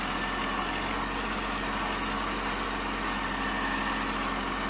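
Kubota Aste A15 tractor engine running steadily with a constant low-pitched hum, close by and fairly loud, holding an even tone throughout with no clear surges.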